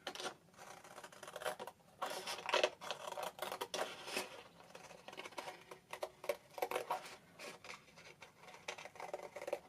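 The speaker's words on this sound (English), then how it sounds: "the next part is just cutting that out" Scissors snip and crunch through paper, cutting out a heart shape, in short irregular bursts, close up, with small rustles between cuts and no talking.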